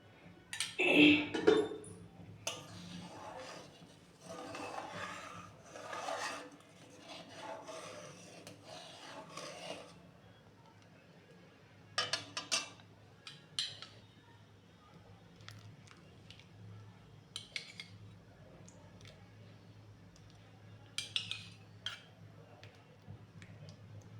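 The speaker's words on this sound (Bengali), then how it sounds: "এখন আমি লেবুর রস দিয়ে দিচ্ছি, কেননা আমার কাছে ভিনিগার নেই, তো তাই অল্প অল্প করে লেবুর রস দেবো আর নাড়তে থাকবো।" Milk is stirred in a pot as lemon juice is added to curdle it for rasmalai, making intermittent rasping scrapes of a spoon against the pot with occasional light clinks, some loud and close, others faint.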